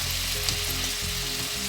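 Potatoes sizzle and crackle steadily in a hot frying pan, close and constant, with no talking.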